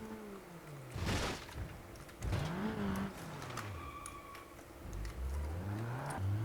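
Car engine in the BeamNG.drive driving game, a Cherrier Vivace front-wheel-drive hatchback revving up and down through gear changes, with rising and falling engine tones and brief tyre noise, moderately loud.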